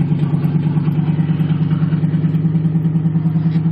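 A 1977 Chevrolet Monte Carlo engine idles high, fast and steady, a loud, even mechanical drone with a rapid pulsing rhythm throughout, close by and with no voices.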